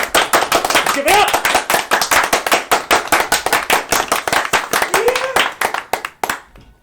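A group of people claps loudly and steadily together in an indoor tabletop game session, with brief voices and a whoop mixed in before the applause trails off.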